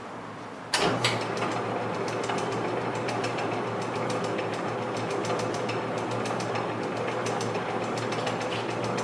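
A small electric motor with a start-stop rocker switch spins a hundred-year-old pulley, switching on with a sudden onset and then running as a steady, close mechanical whir with fine rapid ticking throughout, alone without talk.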